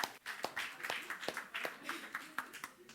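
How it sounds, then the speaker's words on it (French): An audience claps for performers at a church gathering, a scattered patter of hand claps with uneven rhythm at moderate loudness, fairly sparse rather than a full ovation. "Vous pouvez les applaudir."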